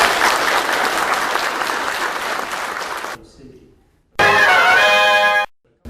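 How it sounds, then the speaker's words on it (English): Audience applause at a live podcast taping at a horror convention, a dense sustained burst of clapping that fills the room, stops abruptly, then returns briefly with a voice over it. "How about a round of applause for these guys?"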